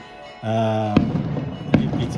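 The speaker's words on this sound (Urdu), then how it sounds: "وہ جو آتش بازی کا دھواں نکل رہا ہے وہاں سے" Fireworks go off as two sharp, booming bangs about a second apart. A sustained voice-like tone comes just before them, and a low background rumble continues throughout.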